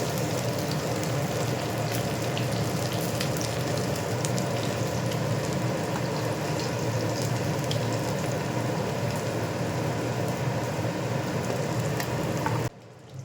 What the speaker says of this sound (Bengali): পার্শে মাছ তো খুবই ভালো লাগে খেতে, এই মাছটা যাতে ঠিকঠাক করে খেতে পারি তাই ভাবলাম একটু বেশি ভাজি